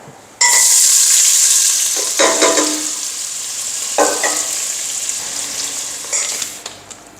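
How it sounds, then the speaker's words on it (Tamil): Mutton cooking in a pot, a loud close sizzle that bursts in suddenly and keeps up steadily, with a few stirring scrapes and bubbling surges along the way. "இப்போ வந்து நம்மளுக்கு மட்டன் நல்லா வெந்துக்கிட்டு இருக்குது"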